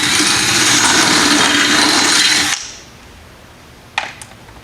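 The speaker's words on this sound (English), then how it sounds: "Go ahead and drill through the cabinet." A power drill whines loudly and steadily for a couple of seconds drilling through a cabinet, then cuts off, followed by a quiet pause and a few small clicks.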